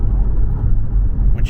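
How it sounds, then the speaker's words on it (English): A car driving along a road through thick forest, a close, loud steady engine and road rumble filling the short stretch. "it's like you're driving right through the middle of the forest"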